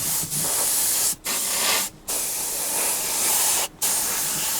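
An airbrush sprays a coat of paint onto a 1/48 Tamiya Supermarine Spitfire Mk.I model in a steady close hiss, cut by several short pauses between passes.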